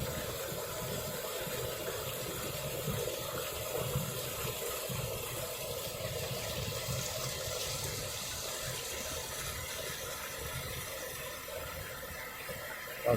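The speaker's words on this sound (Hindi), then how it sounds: "वो देखिए ऊपर से आ रहा है पानी" Water pours down from above in the Gilgit-Baltistan mountains, a steady rushing flow that stays even and close for the whole stretch, with no one talking.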